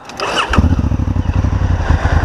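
A Honda Africa Twin motorcycle engine cranks briefly, then catches and settles into a loud, steady, throbbing idle close by, with a standard exhaust system.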